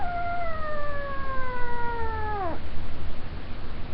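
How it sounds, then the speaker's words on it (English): A tabby kitten gives one drawn-out, falling meow, close and clear, then stops, leaving quiet room noise behind. "This is a tabby kitten."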